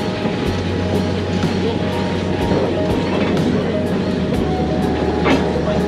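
A short train ride at a steam festival, heard from on board as a steady rumbling roll with faint rhythmic clicks along the track, continuous and fairly loud throughout.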